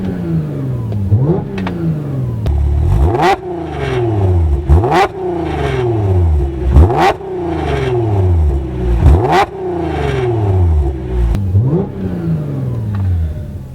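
An Audi S5 engine revs hard again and again against a soft rev limiter around 3,500–4,000 RPM, each rise cutting off and dropping back in a burst roughly every two seconds. Loud and close.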